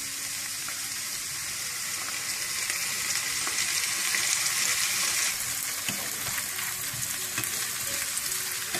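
Cream added to fried golden potatoes in a pan, a dense, steady hiss and bubbling sizzle with faint stirring scrapes, close and continuous.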